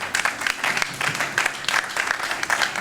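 A church congregation applauds to the glory of God during a sermon. Steady, fairly distant clapping from many hands fills the whole stretch, dense and even, with no voices on top.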